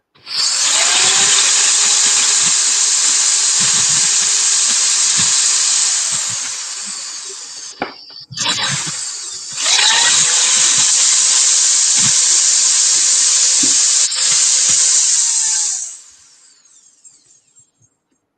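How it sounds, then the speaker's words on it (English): A power drill bores pilot holes for the legs of a craft project, whining steadily at high speed for several seconds, stopping briefly, then running again in a second long burst before winding down. "I'm pre-drilling the holes for the legs."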